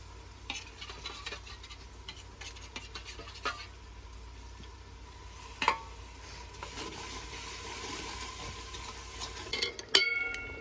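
Spices, potatoes and spinach are stirred and roasted in a pan, with a soft continuous sizzle, quiet scraping strokes and occasional utensil clinks against the pan.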